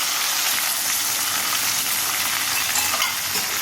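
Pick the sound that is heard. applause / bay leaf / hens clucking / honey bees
bay leaf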